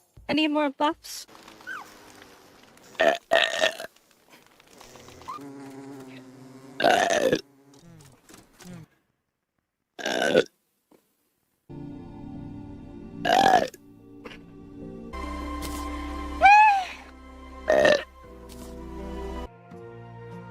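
A girl produces several loud burps spread across the stretch, some short and some long and gurgling, with quiet stretches and faint background sounds between them.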